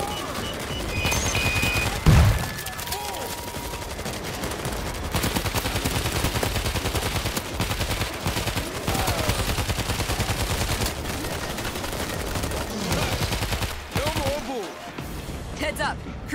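Automatic turret gunfire in the zombie shooter World War Z, on the New York level: dense, sustained rapid firing with constant battle noise and occasional voices over it.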